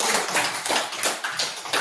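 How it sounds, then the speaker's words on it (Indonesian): Students in a classroom clap in short, regular bursts, a patterned group clap that is brief and fairly loud. "Tepuk tangan."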